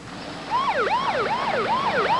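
Ambulance siren wails in a fast, repeating up-and-down sweep, loud and close, cycling about four times with no voices over it.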